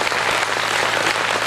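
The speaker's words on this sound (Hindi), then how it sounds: "तालियां कम है, शायद आपकी ज्यादा उठती तो अच्छा लगता मुझे।" Applause from an audience at a Hindi poetry gathering (kavi sammelan), a steady wash of clapping filling the whole moment without any voices over it.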